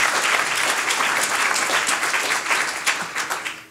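Sustained audience applause at a university community partnership anniversary conference, a dense wash of many hands clapping fairly loudly for several seconds before tapering off at the end.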